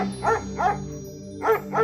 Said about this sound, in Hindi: जादुई सफेद कौवे को देखकर शेरू भौंकने लगा